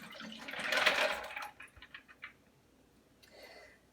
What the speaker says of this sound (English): We'll pour into the blender.